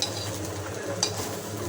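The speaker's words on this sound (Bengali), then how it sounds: "এই যে শুটকি ভাজছি" Chepa shutki, dried fish, frying in a pan gives a close, steady sizzle, with a couple of quick scraping stirs from a utensil.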